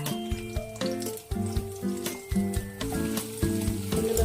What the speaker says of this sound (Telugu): దానికోసం ముందుగా 2 స్పూన్ల ఆయిల్ వేసుకున్నాం, 2 ఉల్లిపాయలు, గ్రేవీ కోసం ఇవన్నీ వేపుకుందామండి.